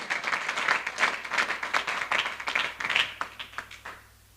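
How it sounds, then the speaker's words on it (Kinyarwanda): A church congregation claps and applauds together in a dense, rhythmic burst lasting a few seconds, then fades away to quiet. "Kadukomere Imana yacu amashyi menshi"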